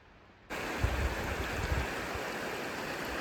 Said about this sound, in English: you've got this creek running right through the side of the campground.